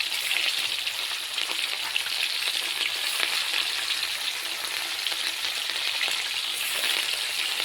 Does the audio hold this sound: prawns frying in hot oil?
yes